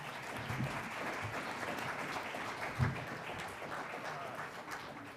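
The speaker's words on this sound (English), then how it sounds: "Let's give them a round of applause, please." Audience applause for a panel at a regional housing summit, a steady wash of many hands clapping at moderate volume throughout, with faint voices underneath.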